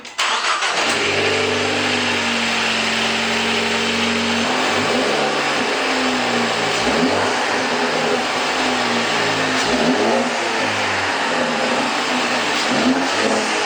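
A Ford Focus ST with a Mountune setup runs in neutral after a recirculation valve and spark plug install. The engine starts, then holds a loud, close, steady drone with a few brief blips in pitch, and no voices.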